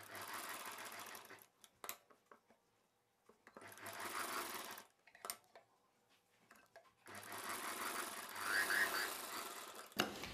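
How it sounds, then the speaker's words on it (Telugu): A sewing machine stitches around the neck of a child's summer cotton frock in three separate bursts of rapid whirring, close and fairly quiet, with short sharp clicks and silent pauses between runs and no talking. "ఇలా పెట్టుకొని ఇప్పుడు మనం నెక్ చుట్టూ కుట్టు వేసేసుకోవాలి."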